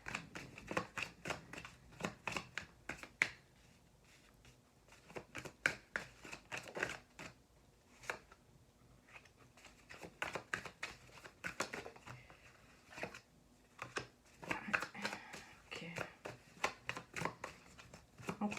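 Cards are shuffled during a card reading in a series of quick, close riffling bursts with short pauses, fairly quiet, and faint speech now and then in the background.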